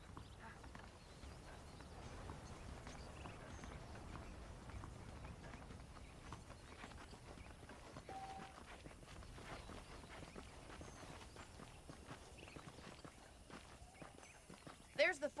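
Horse hooves clip-clop at a walk in the Red Dead Redemption video game, a faint, steady rhythmic clatter under background game ambience, with a brief louder burst at the very end.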